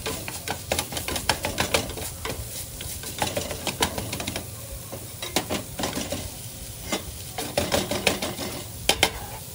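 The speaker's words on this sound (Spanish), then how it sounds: "Le damos otra mezcladita a nuestra carne para que no se nos vaya a quemar." Ground meat being stirred in a hot pan, a close run of rapid scraping and clinking utensil strokes in an uneven rhythm over a constant sizzle, continuing without pause.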